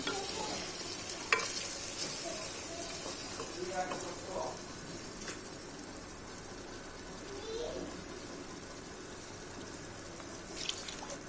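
Ground masala paste being stirred into a frying pan while cooking vegetable pulao, with soft scraping and a low sizzle throughout and a few sharper clinks of the spoon against the pan.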